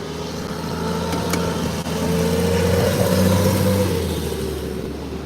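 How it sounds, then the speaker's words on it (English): A loud car engine roars steadily close by, its low rumble swelling slightly as it passes, with no voices. "You have to check your engine on that, sir. Seems a little loud"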